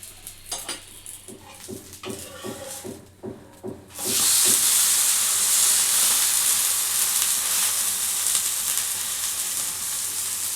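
Oil poured onto an uttapam made from dosa batter and topped with onion, on a hot pan: a few utensil taps, then a loud, steady sizzle that rises abruptly and keeps hissing to the end.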